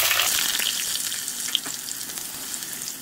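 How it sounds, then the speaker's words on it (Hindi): Refined oil shallow frying mixed vegetables for a dhaba-style mixed veg sabji, a steady close hiss and crackle throughout with a few brief pops, no talk. "शैलो फ्राई करेंगे।"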